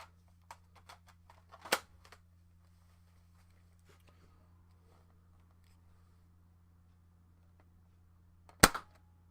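A Nerf Fortnite SP-L blaster fires AccuStrike darts, giving two sharp, loud snaps several seconds apart, with faint handling clicks in between over a steady low background hum.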